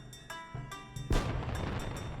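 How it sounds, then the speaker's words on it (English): Fireworks in Final Fantasy XI, several soft muffled pops in a quick series, then a louder boom that crackles and fades out. "The fireworks are going again."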